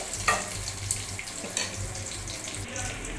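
Ingredients for ranagali leaf thuvayal sautéing in a pan, a steady watery sizzle with faint stirring clinks and scrapes.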